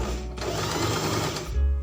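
A portable sewing machine stitches a buttonhole, its motor whirring in one rapid, even run of needle strokes that starts abruptly and stops just under two seconds later.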